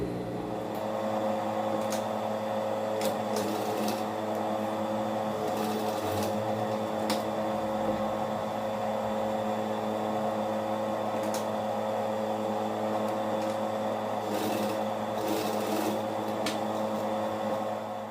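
Sewing machine running steadily to stitch the final seam of a simple child's dress, a continuous close mechanical hum with small shifts in speed and no talk over it.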